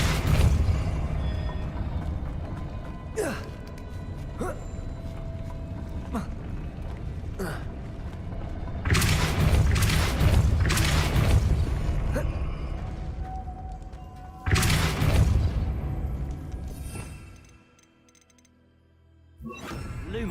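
Depulso spell blasts in Hogwarts Legacy, heard as a few loud whooshing bursts amid the game's ambient background, one near the middle and another later, followed by a short quiet stretch.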